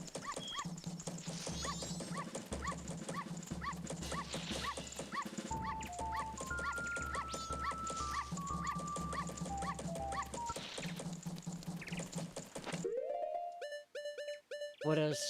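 Dogs in Majora's Mask bark and whimper in a busy game soundscape, repeated yips and whines under steady background music and clip-clopping, before the scene cuts to quieter, sparse tones near the end.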